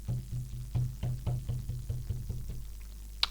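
A bass drum rhythm from a reset pattern on an Elektron Analog Rytm drum machine, a steady run of about ten even, deep thumps with a brief bright click at the end, close and alone.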